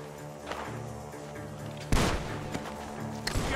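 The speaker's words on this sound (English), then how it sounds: "Gunshots are coming from that barn!" Several gunshots boom amid Red Dead Redemption 2 game noise, one loud crack standing out, followed by a few sharper shots over a busy rumbling background.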